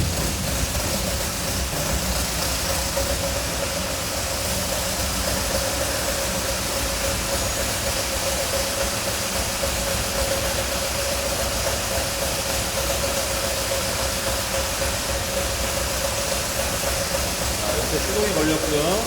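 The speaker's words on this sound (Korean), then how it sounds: "시동이 걸렸고요" An old car's engine runs at a steady idle, a continuous close mechanical drone with a weak battery, while someone talks over it.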